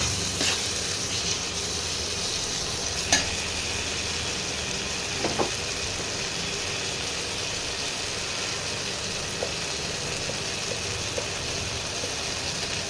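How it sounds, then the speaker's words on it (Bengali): Ginger-garlic spice paste fries in a pan for a bhetki fish and cauliflower dish, making a continuous soft hiss with a few faint stirring clicks scattered through. "আদা রসুনের কাঁচা গন্ধটা যতক্ষণ না যাবে ততক্ষণ একটু কষাতে হবে"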